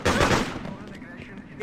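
Bursts of gunfire in the Freedom Fighters video game crackle briefly and fairly faintly amid battle noise, with shouted voices nearby.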